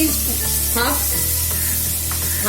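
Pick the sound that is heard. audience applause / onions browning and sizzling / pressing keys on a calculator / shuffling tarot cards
onions browning and sizzling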